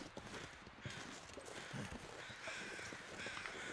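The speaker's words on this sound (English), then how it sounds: "I hear crows up here." Crows cawing in the survival video game The Long Dark, harsh calls mixed with crunching footsteps on snow and ambient wind, moderately loud and continuous.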